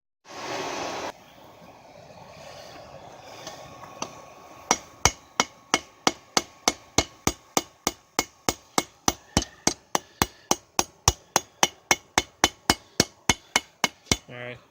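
A hammer pounds the tip of a piece of hot metal at a forge, striking about thirty sharp, ringing blows in a fast steady rhythm after a brief stretch of quieter clatter and a short hiss.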